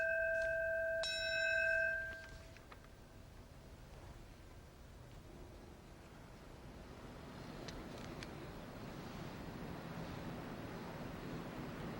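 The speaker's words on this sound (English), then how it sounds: "Ringing of the ceremonial Fire Department of New York fire bell, the signal that a firefighter is down." A ceremonial FDNY fire bell rings a short series of clear, sustained metallic strikes at the start, then decays into a low outdoor rumble of wind and distant crowd noise at a memorial gathering.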